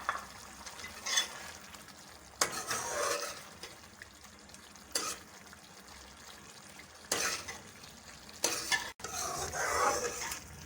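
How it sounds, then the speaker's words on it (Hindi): Sliced capsicum tossed into a hot pan for chicken fajita spaghetti, with bursts of sizzling and stirring scrapes coming in several separate waves between quieter pauses, close and moderately loud. "अब 2 अदद कटी हुई शिमला मिर्च डाल लेंगे।"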